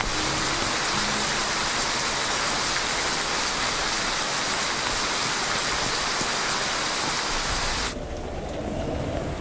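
Heavy rain pours down steadily outdoors as a dense, continuous hiss that stays even throughout, with the upper wash dropping away slightly near the end.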